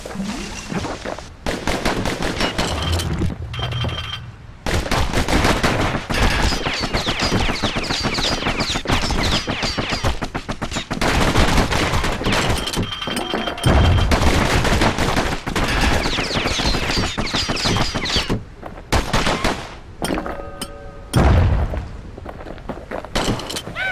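Enemy gunfire in the action game Bastion, dense rapid volleys of shots and thuds that continue almost without pause for the whole stretch, loud and close, with a few brief lulls.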